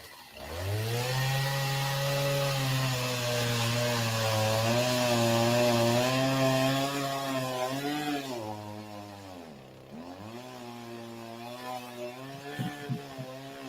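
A small Stihl 029 chainsaw cuts through logs at a log deck, its engine droning loud and steady, dipping in pitch as the bar bogs in the wood, then revving back up and continuing to cut.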